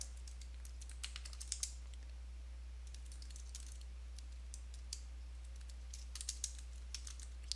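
Quick, light keystrokes as a git commit command is typed on a computer keyboard, arriving in short bursts with pauses, faint and close over a low steady hum, with no talk.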